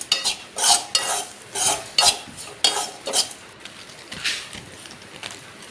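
A spoon stirs chilli powder into dried prawn chutney in a vessel, scraping in about a dozen distinct rhythmic strokes, close and clear with no talk.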